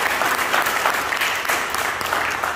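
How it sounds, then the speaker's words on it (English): Church congregation clapping their hands together in sustained, dense applause that fills the room evenly, with a few voices faintly mixed in. "Come on, let's clap our hands in the goodness of God."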